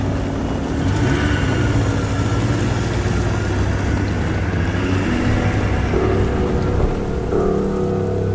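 Heavy rain pours steadily and loudly, with low rolling thunder rumbling underneath throughout.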